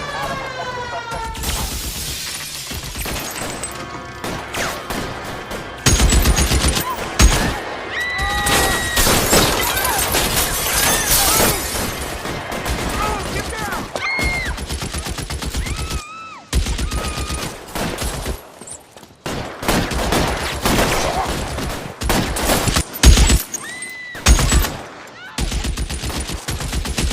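Gunfire bursts and wailing police sirens in the video game L.A. Noire during a shootout call, loud and dense with rapid shots, breaking glass and radio dispatch voices layered over a busy game soundtrack.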